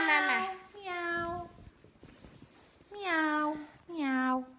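A person's voice imitates a cat, giving four drawn-out, sing-song meows in two pairs with short pauses between them, close and clear.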